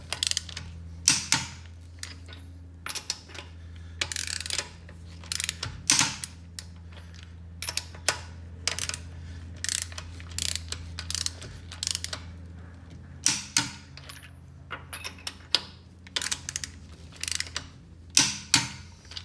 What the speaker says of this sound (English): torquing them down to that star pattern